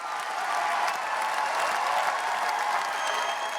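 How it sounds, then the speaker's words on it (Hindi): Delegates in Paris applaud the adoption of the climate agreement, a dense, loud, even wash of hand clapping from a large hall crowd lasting the whole moment with no pauses. "तालियों की गड़गड़ाहट के बीच पेरिस में 195 देशों के प्रतिनिधियों ने जलवायु समझौते पर मुहर लगाई"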